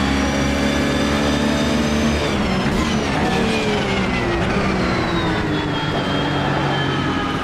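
Race car in Automobilista 2 with its back end sliding, a loud high-revving engine whine with shifting pitch and tire scrub, close and continuous throughout.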